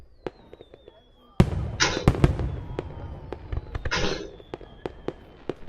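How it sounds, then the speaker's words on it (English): Celebratory fireworks sound effect: a sudden loud burst followed by a dense run of crackling pops and sharp bangs, with scattered crackles trailing off; faint speech at the start. "right now is the part where we're going to put in the celebratory fireworks."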